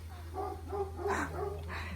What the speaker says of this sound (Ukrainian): собака не перестає гавкати